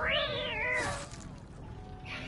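A person imitates a cat's meow with a single rising-then-falling whine, close and clear, followed by quieter background noise.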